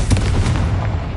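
Confringo fire-blast spell detonating in Hogwarts Legacy, one loud, close, booming explosion with a rumbling tail that fills the whole moment.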